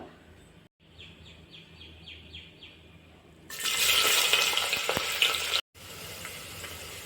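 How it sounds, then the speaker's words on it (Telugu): Thinly sliced onions drop into well-heated oil in a pressure cooker for veg biryani, bursting into a loud, dense sizzle midway that cuts off abruptly, after a quieter stretch of faint kitchen background. "ఆయిల్ అయితే బాగా హీట్ ఎక్కిన తర్వాత మనం సన్నగా కట్ చేసి పెట్టుకున్న ఆనియన్స్ని అయితే ఇందులో యాడ్ చేసేసుకుందాం"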